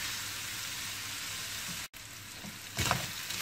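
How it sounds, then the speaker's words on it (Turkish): Green peppers and börek filling sizzle steadily in a pan while being sautéed, a continuous frying hiss with a brief stir-like burst near the end. "İyice kavuracağım. İç harcımızın güzelce pişmesi gerekiyor."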